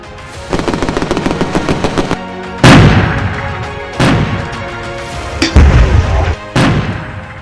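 Machine gun fire from a main battle tank's coaxial 7.62mm or roof-mounted 12.7mm gun, loud rapid bursts separated by short pauses, with heavy booming shots between them and no talk.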